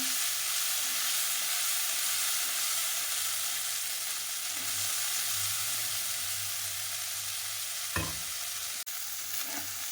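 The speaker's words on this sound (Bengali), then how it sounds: "আর এই যে পেস্ট করে রেখেছিলাম আদা কাঁচা লঙ্কা টমেটো কাজু বাদাম মশলাটা একটু করতে থাকবো" A paste of ginger, green chili, tomato and cashew frying in a pan for a mushroom curry, giving a continuous close sizzle with stirring, a couple of brief utensil knocks near the end.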